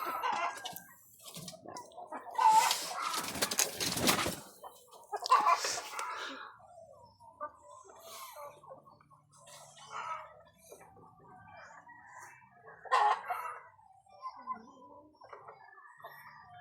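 Chickens on a small poultry farm cluck in scattered close bursts, with louder squawks now and then and stretches of quiet between.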